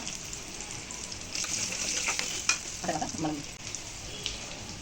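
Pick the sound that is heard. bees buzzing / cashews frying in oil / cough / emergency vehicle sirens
cashews frying in oil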